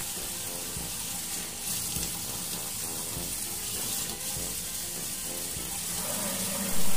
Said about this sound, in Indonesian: Fungsinya adalah untuk mengatur seberapa deras airnya nanti. Maksudnya aliran airnya gitu maksudnya.